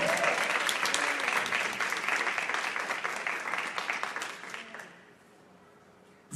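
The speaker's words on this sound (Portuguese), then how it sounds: "levante a sua mão e aplauda ao Senhor" Church congregation applauding the Lord during a sermon on Zacchaeus, a full burst of crowd clapping that stays strong for about four seconds, then thins and fades to near quiet.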